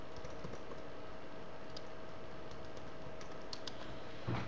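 Quiet typing on a computer keyboard during a Minecraft mod installation, soft steady key clicks running throughout with a slightly louder cluster of keystrokes near the end.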